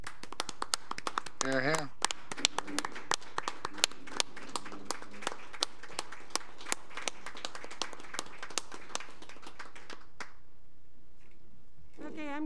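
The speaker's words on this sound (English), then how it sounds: "Chad deserves a round of applause, everyone" Council meeting attendees in the City of Decorah clap for Chad, a run of sharp, scattered handclaps with a voice calling out over them, then a short pause before talk resumes near the end.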